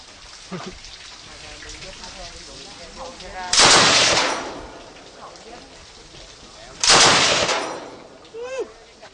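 Two loud, rapid bursts of heavy machine gun fire ring out a few seconds apart at the Cu Chi Tunnels, each a dense rattling blast, with quiet outdoor ambience and faint voices between.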